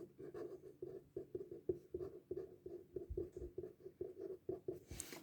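Rhythmic strokes of writing on a classroom board during a science lesson about the heart, a quick steady series of close scratchy taps and scrapes with no speech.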